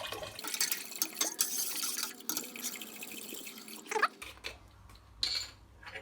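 Homemade alcohol poured from a pot into a bottle during bottling, a close gurgling stream with drips and small knocks of glass, alone with no voices.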